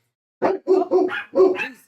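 A dog barks close by and loudly, letting out four or five quick yapping barks in a short burst.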